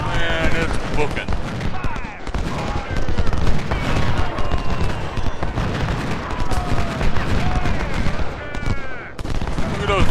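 Napoleon cannons and artillery firing in the Civil War video game Ultimate General Civil War, a loud, dense, continuous barrage of booming blasts and crackling musketry, with someone talking over it.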